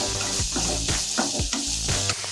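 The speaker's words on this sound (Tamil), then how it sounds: "வெங்காயம் போட்டு நல்லா வதக்கிக்கலாம்." Onions sautéing in a pan for a chicken gravy: a loud, continuous sizzle with a few rhythmic scraping stirs of a spoon, heard close up with no voice.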